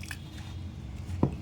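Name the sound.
kneading pizza dough by hand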